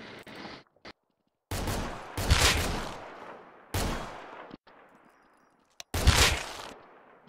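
Bursts of gunfire crack out in several loud volleys with short gaps between them, fairly close and with no talking over them.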